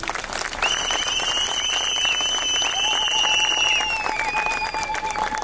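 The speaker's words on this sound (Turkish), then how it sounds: "Ege'ye, Kaz Dağları'na, İliç'e de bir alkışla selam gönderelim." Outdoor crowd at a nature rally claps steadily and loudly, a dense wash of applause while whistles or cheering tones ring over it.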